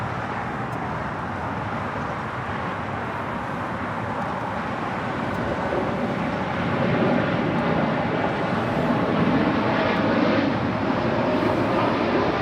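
A fixed-wing airliner rumbles steadily at LAX, a broad continuous engine roar that swells louder in the second half as the plane draws nearer.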